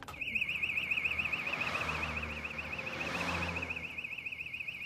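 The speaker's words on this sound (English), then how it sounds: "the alarm bell's going off" A house alarm bell rings continuously for the whole stretch, a steady warbling electronic tone held at moderate level with a low rumble and faint background noise beneath it.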